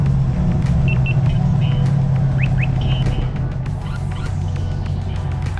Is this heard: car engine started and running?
yes